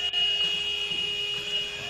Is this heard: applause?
no